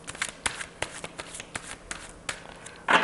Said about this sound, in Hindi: And the last shuffle.